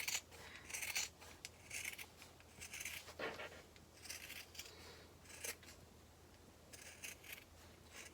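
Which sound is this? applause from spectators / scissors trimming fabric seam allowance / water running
scissors trimming fabric seam allowance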